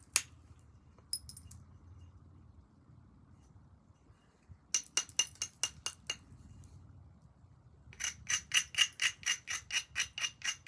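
Tallahatta quartzite blade being knapped to remove a hump on the back, sharp glassy clinks of stone striking stone: a few isolated taps, then a quick burst of strikes, and finally a steady rhythmic run of about a dozen blows, close and fairly loud.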